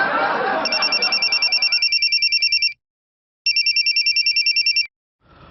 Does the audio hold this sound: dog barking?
no